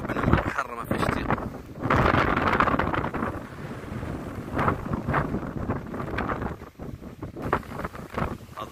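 Strong wind gusts roar against the microphone on the shore of a rough, churning sea at Cap de l'Eau, Morocco, a loud steady buffeting with surging swells and no pause.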